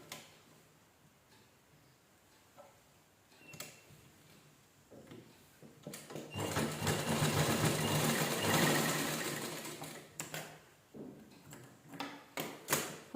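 A sewing machine locks the stitching along a folded saree pallu edge. Faint ticks give way to a loud, steady whir lasting several seconds, then a few short bursts near the end.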